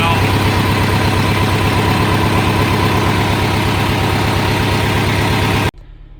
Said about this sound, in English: Okay, John Deere started.